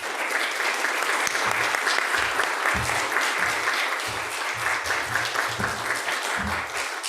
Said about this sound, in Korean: 나오실 때 박수로 환영하도록 하겠습니다.